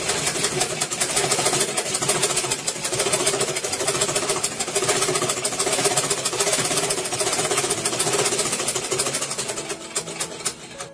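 A sewing machine stitches pieces of cloth together in a steady, continuous mechanical whir, close and moderately loud, running without a break and easing slightly at the end.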